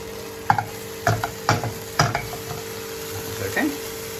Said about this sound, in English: So I'm going to give this a stir.